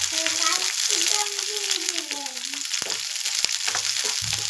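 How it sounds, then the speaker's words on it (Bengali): Carrot and capsicum frying in a pan for hakka noodles, a steady close sizzle running throughout with a few stirring scrapes near the end. "ক্যাপসিকামটা একটু ভাজা ভাজা হলে পেঁয়াজ দিয়ে দেবো।"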